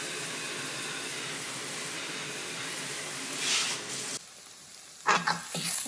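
Onions frying in a pan for a Louisiana Cajun jambalaya give a steady, close sizzle that swells briefly, then cuts to a quieter hiss before a few louder stirring bursts near the end.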